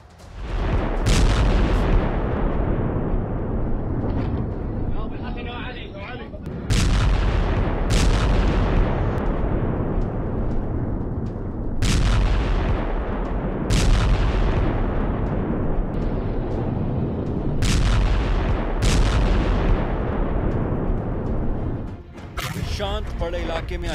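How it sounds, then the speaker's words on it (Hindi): Heavy booms from a US air strike on ISIS targets in Syria hit repeatedly, each a loud blast trailing into a rumbling decay, spaced every few seconds beneath continuous narration. "शांत पड़े इलाके में अचानक एक जोरदार धमाका होता है"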